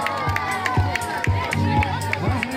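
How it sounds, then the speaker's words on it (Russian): At a children's summer camp dance and cheerleading event, a crowd claps in a loud, even rhythm, with young voices shouting and cheering over the beat. "Аплодисменты!"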